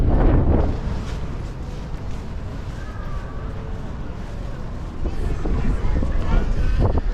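Strong wind on the streets of Porto, Portugal buffets the microphone in low, rumbling gusts, louder at the start and end, with faint voices underneath.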